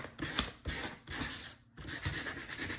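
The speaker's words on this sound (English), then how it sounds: "you're going to use the yellow sandpaper, the one that is more rough" Rough yellow sandpaper rubbed by hand over a piece, giving steady scratchy strokes in three bursts with brief pauses between them, close and moderately loud.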